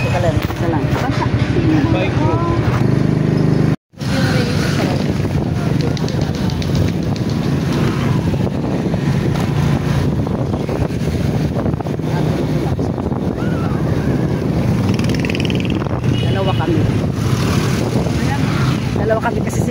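Loud, steady wind rush buffeting the microphone while two people ride together on a motorcycle, with a brief dropout near the start and voices talking over the roar.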